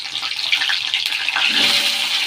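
Potatoes fry in hot oil left from frying prawns, a loud, dense, steady sizzle and crackle running unbroken from start to finish.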